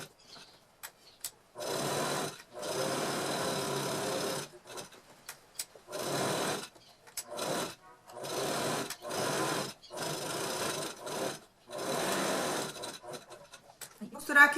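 A sewing machine stitches a divided bag in repeated bursts of a few seconds each, a close, steady mechanical whir separated by short pauses, with faint speech at moments.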